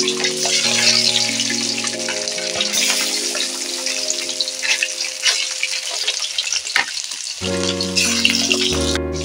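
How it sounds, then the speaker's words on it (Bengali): Turmeric-coated fish pieces sizzle steadily in hot oil in a wok, a dense crackling fry running throughout with a few sharper spits, close and fairly loud with no talk. "পরপর করে মাছগুলোকে সব দিয়ে দেবো।"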